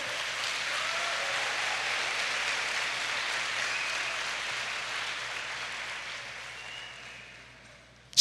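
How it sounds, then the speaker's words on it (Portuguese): A church congregation applauds together, a broad, even wash of many hands clapping that holds steady and then gradually fades toward the end, with no talking over it. "Pode aplaudir o nome do Senhor."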